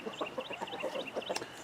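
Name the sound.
Whiting True Blue chicken clucking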